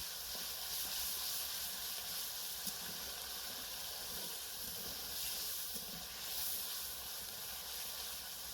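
Ground onion paste sizzles in hot oil with cardamom and cinnamon while cooking Bengali-style sar chingri prawns, a faint, steady hiss continuing without a break.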